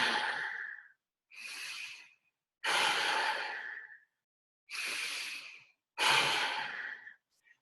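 A person breathes in through the nose and exhales in a deep, raspy, Darth Vader-like rush, five long breathy bursts separated by silences, close and alone.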